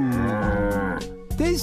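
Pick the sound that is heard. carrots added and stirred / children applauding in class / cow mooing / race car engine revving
cow mooing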